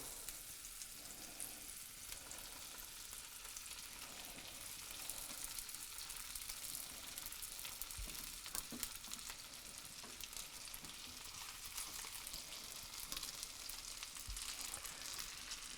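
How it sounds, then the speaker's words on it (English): Pierogi fry in a hot pan, a dense continuous sizzle and crackle that holds steady from start to finish, close up with occasional small pops and no voices. "I can start dropping in the pierogi to give them a lovely golden colour in the pan"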